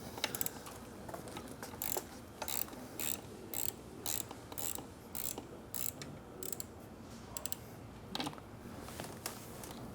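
A dirt bike shock's spring preload ring being loosened after its 4mm Allen lock is freed, giving a series of short metallic ratcheting clicks and scrapes in irregular bursts, close and moderately loud.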